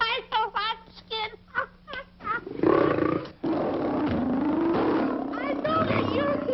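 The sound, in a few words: lion roaring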